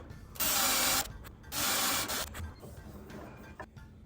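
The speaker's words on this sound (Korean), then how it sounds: "너트의 윗면보다 2mm 정도 큰 포스너 비트로 3mm 깊이의 보링을 해줍니다" A Forstner bit bores a shallow recess into walnut for a barrel nut while a round table is built, making two loud grinding bursts of about half a second each, then softer scraping, close up, with no talking.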